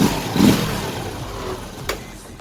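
A Lifan TAY100 motorcycle engine with an open cup air filter revs up under the throttle, rumbling loudly and close, then settles back toward idle.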